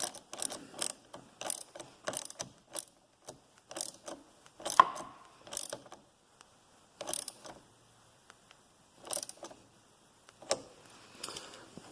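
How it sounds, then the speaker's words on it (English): Close, loud ratchet wrench clicks in quick repeated runs with short pauses, tightening a 10 millimeter nut on the battery clamp of a VW Golf TDI mk4, with no voices. "tighten the 10 millimeter nut back up"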